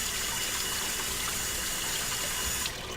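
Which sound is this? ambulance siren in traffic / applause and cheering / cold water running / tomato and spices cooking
cold water running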